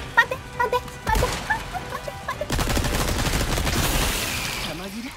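Resident Evil 4 Separate Ways combat: a few sharp gunshots and clicks, then a thick, sustained burst of rapid firing that rolls on and tails off, with a voice briefly speaking near the end.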